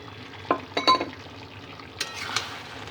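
Chicken sautéed with freshly ground roasted spice mix, a few sharp clinks and scrapes of a spoon against the pan over a quiet sizzle.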